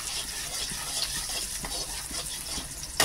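Cloves frying lightly in oil in a wok, a continuous close hiss and crackle with a sharp clack near the end.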